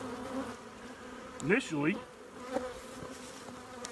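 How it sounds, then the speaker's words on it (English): Honeybees buzz around a newly split hive, a steady insect drone under outdoor ambience, with a brief voice speaking partway through. "And then you'll have a full-fledged hive."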